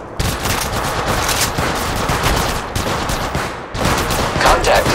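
Sustained loud automatic gunfire in the mobile video game Apex Legends Mobile, continuous rapid bursts broken by brief pauses, close and dominant throughout.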